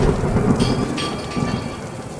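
Heavy rain pours steadily in a thunderstorm while a deep rumble of thunder rolls beneath it, loud and close, with no voices.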